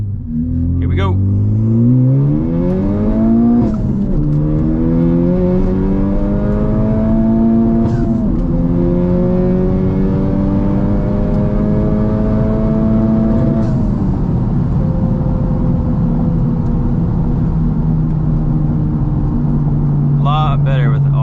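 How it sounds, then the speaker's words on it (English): A 2020 Honda Civic Type R makes a full-throttle second-gear pull, its loud engine note climbing in repeated rising sweeps with brief shift dips, then easing to a steady cruise drone, heard from inside the cabin. "We'll do another second gear, full throttle pull."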